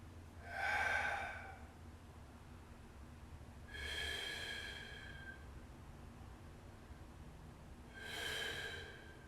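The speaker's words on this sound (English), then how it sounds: "Big inhale" Three slow, deep breaths are drawn in during a yoga pose, each a soft airy rush a few seconds apart, faint and close against quiet background hum.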